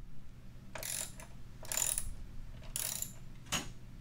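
A screw being backed out of the battery brace on a Pontiac Solstice or Saturn Sky, heard as several short ratcheting bursts with pauses between them, close and fairly loud.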